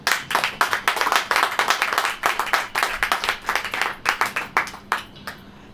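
A church congregation claps hard on cue in a sermon, a loud, close run of rhythmic hand claps with slight unevenness that carries on for several seconds before breaking into scattered last claps.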